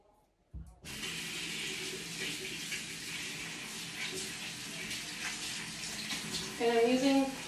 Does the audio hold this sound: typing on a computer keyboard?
no